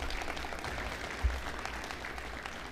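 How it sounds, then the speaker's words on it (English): Graduation ceremony audience applauds the graduating class's supporters, a steady dense wash of clapping from a crowd, moderately loud and continuous throughout with no talk. "Grad class, give them a round of applause for all the support they've given you."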